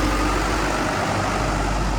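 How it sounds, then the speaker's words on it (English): A loud truck in a city street, a heavy low engine rumble that stays close and dense for the whole span, with no talking over it. "loud truck"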